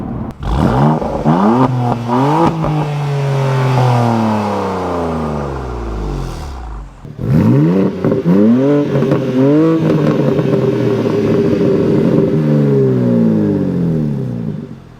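A BMW M2 engine revs hard, climbing and falling in pitch through repeated gear changes, loud and close, with a brief lull before another surge.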